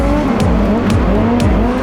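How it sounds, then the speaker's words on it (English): Dirt track race cars at the indoor East Coast Indoor Dirt Nationals in Trenton, NJ roar loudly and up close. Engines rev hard in repeated rising and falling sweeps as the cars drive the short mud track. "you hear the motors revving and you can feel it in your body"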